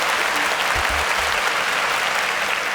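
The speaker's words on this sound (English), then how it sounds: "Please, a round of applause as they exit." Studio audience at a televised competition show applauds contestants as they exit, dense continuous clapping that stays loud and even throughout, with a few low thumps early on.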